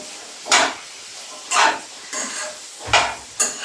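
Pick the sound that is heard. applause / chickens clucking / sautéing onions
sautéing onions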